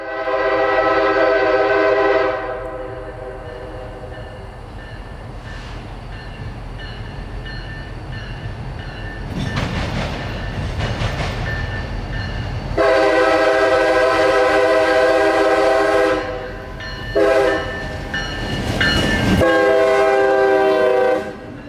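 A lone SD40-3 diesel locomotive heads north past a crossing, sounding repeated loud horn blasts of varying length over the rumble of the engine and the clatter of the rails.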